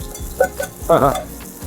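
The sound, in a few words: garlic slices frying in a clay pot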